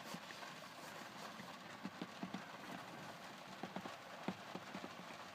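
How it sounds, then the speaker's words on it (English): Rain falls in a steady, soft patter with scattered louder drops tapping a surface nearby, quiet and continuous with no voices. "The rain sounds so nice."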